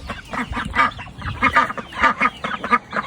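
Farm ducks in a crowded group quack repeatedly in quick, honking bursts, close and fairly loud, with overlapping calls and no talk.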